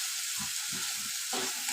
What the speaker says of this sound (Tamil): பாருங்கள், நல்லா தக்காளி எப்படி வதங்கிருக்கு தெரியுதுங்களா?